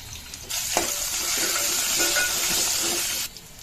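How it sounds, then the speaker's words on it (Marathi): Curry leaves, asafoetida and sliced green chillies drop into hot oil for a tempering, which bursts into a loud, hissing sizzle close up. It holds steady for about three seconds, then cuts away. "त्याच्यात कढीपत्ता एक छोटा चमचा हिंग चार पाच कापलेल्या मिरच्या"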